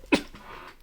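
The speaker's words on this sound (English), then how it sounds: "Well, he's sneezing." A single person sneezes once, a quick loud burst at the start followed by a short breathy trailing sound, close and alone with no speech.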